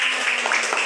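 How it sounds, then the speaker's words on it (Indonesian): Classroom applause, a short loud burst of many hands clapping together in a dense, continuous patter lasting about a second. "Beri tepuk tangan semuanya."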